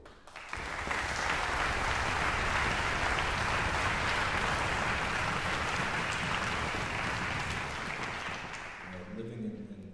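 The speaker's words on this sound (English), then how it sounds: "So a round of applause for the board." An audience applauds the board during a music director's introduction, a dense, loud clapping that swells quickly, holds steady for several seconds, then tapers off as a voice returns at the end.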